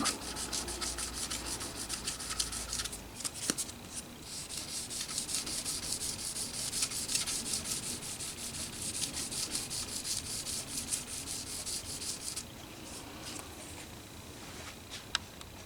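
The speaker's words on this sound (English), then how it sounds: "I wet sanded with a little bit of this Trizac 3000 grit" Fine-grit sandpaper rubs back and forth over a gloss lacquer finish lubricated with oil soap, a close, continuous rhythmic scratching hiss of quick strokes that carries on for about twelve seconds before easing into a few softer scrapes.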